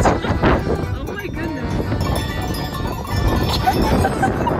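Goat bells clank and jingle irregularly among bleating goats in the Alps, close by and continuous, with voices mixed in.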